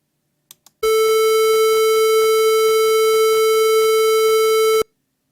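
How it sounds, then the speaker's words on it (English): A steady, buzzy 440 hertz square wave tone with a hollow, reedy edge holds at one pitch for about four seconds, preceded by two faint clicks, then cuts off abruptly. "I meant square wave at 440 hertz."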